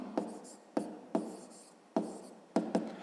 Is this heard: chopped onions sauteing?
no